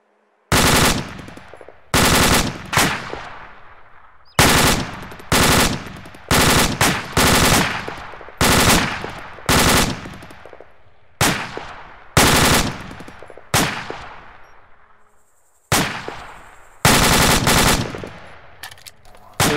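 Machine gun fire in long, loud bursts of rapid shots, repeating about every second or two with short gaps between them, close and dominant throughout during a firefight.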